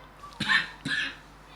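Two sharp coughs in quick succession, close and fairly loud, followed by quiet.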